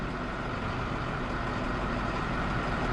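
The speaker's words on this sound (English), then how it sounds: "Outside the diesel bus" Diesel school bus idling at a school loading zone, a low, steady engine rumble with a constant broadband hum, heard from nearby at moderate level with no talking.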